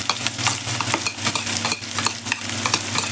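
Onion frying in hot oil with cumin seeds as a large onion goes into the pan for a lentil fry, giving a loud, steady, close sizzle and crackle with stirring scrapes and no talking.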